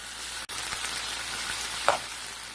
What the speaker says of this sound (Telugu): తర్వాత అందులో కడిగి పెట్టుకున్న మునగాకు వేసి కలిపి కొద్దిసేపు వేయించుకోవాలి.